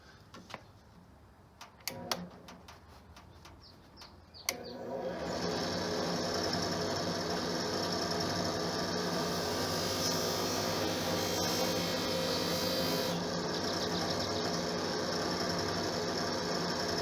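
Steady, loud whirring drone of a buffing wheel polishing car bumper parts with a rouge-like compound, starting after a few sharp clicks and holding constant to the end.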